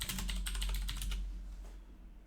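Rapid clicking of keys on a computer keyboard, a quick burst of close, light taps that thins out and fades toward the end.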